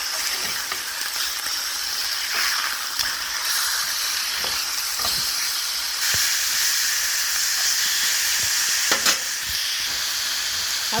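Pork chops fry loudly in a cast iron pan just after being flipped, a close, continuous hissing sizzle with steamy crackle and a few faint clicks, and no voices.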